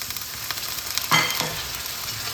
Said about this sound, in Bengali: আর সামান্য জল দিয়ে আমি এটাকে কষিয়ে নেব।